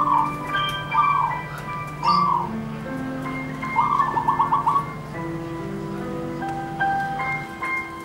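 Repeated soft, rolling coos from a male zebra dove, a few calls in a row, with a steady electronic hum and faint tones in the background.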